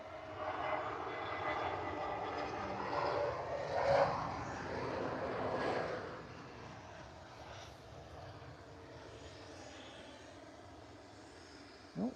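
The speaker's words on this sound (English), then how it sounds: "easyJet A320 Neo coming in from Gran Canaria." An easyJet Airbus A320neo landing at Liverpool Airport makes a moderate, distant jet roar. The roar swells and then fades as the aircraft passes, leaving a quieter background rumble.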